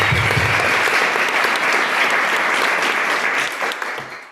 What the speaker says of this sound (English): let's give Russell a big round of applause